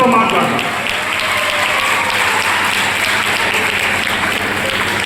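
Students fill a junior college hall with sustained, dense applause during a freshers' day awareness program. The clapping stays loud and steady for the whole stretch with no pauses.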